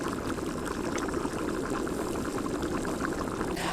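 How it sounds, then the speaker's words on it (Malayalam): Water for rainbow biryani rolls at a steady boil in a pot, a dense, continuous bubbling and churning heard up close without pause. "നല്ല തിള വന്നിട്ടുണ്ട്."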